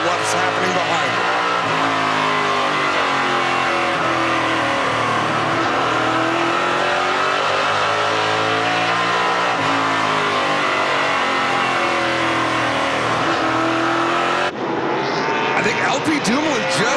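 NASCAR Pinty's Series stock cars race on an oval at the Prairie Thunder Twin 125s, engines roaring loudly and shifting pitch as cars pass, with a race commentator talking over the constant engine noise.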